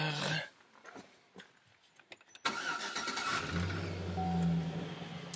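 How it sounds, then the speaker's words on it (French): Car engine fitted with an HHO installation cranks and fires after a quiet stretch with faint clicks and rustling, then settles into a steady, fairly loud idle. "Je vais rallumer mon moteur."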